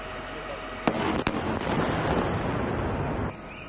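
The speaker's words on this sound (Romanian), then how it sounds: "Momentul exploziei a fost surprins de unul dintre salvatorii" A sudden sharp blast from a Russian air strike on a hospital in Ukraine, followed by a second crack, then a rumbling roar of debris and echo that fades after a few seconds.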